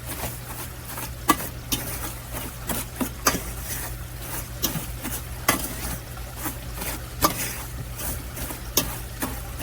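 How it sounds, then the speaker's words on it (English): Flour and panko being stirred together in a bowl for fried chicken, with repeated soft scraping and tapping strokes in an irregular rhythm, close and fairly quiet, no talk over it. "So just mix your flour in with your panko."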